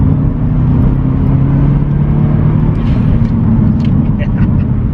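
A Subaru WRX engine gives a deep, steady rumble, continuous and close throughout, with a few brief higher whirs near the end.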